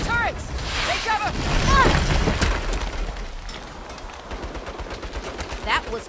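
Turret gunfire in the video game Saints Row: rapid bursts of automatic shots and impacts, loud and dense, building and then thinning out, with shouted voices and game effects over the top.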